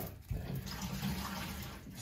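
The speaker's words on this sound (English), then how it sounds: "Just getting the water out of the tank to replace that fill valve, aka ball cock." Water rushes and gurgles as a toilet tank is drained for a fill valve replacement, a brief, faint, close splashing flow with no voices.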